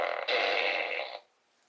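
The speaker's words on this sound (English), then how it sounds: "It is a fart gun." A toy fart gun lets out a single buzzy, drawn-out fart noise lasting about a second, loud and close, then cuts off to near silence.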